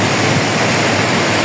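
Strong wind sweeps over a Bangladeshi village, roaring close and loud in a steady, unbroken rush with no voices.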